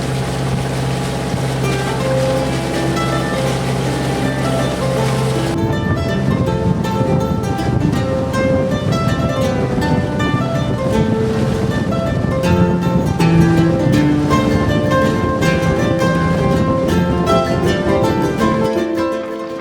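Engine of a chartered sailing yacht motoring across the Ionian Sea, a steady low drone with a shift in tone partway through, mixed with rushing water and wind, loud and close throughout.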